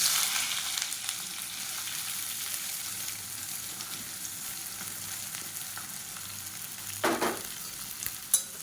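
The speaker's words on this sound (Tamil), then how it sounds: "இது வந்து நல்லா சிவந்து வர அளவுக்கு வதக்கி விட்டுக்கலாம்" Two medium-large onions, sliced lengthwise, sauté in a pan with a steady soft sizzle, broken by a couple of sharp clinks of a stirring spoon near the end; no voices.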